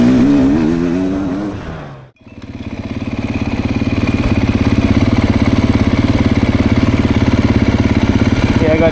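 A Beta 390RR dirt bike engine runs loud and close, a steady rapid throbbing drone after a brief gap, with a rider's voice and a shift in engine note early on.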